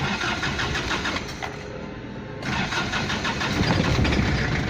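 An Isuzu Panther 2.3 diesel engine cranks and starts, then settles into a loud, steady clattering idle with no talking.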